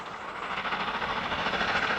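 The Venice Simplon Orient Express rolls along the rails with a steady broadband rushing rumble and faint rhythmic clatter of the carriages, loud and continuous without any voices.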